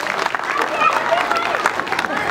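Audience applause at a national meeting of a staff association, with broadband clapping running steadily through the whole stretch. A murmuring crowd and voices mix in beneath it.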